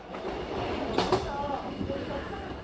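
A mountain train runs along a river valley between Yeongju and Buncheon, heard from on board as a steady rolling rumble and rattle with a brief bright squeal of wheels partway through.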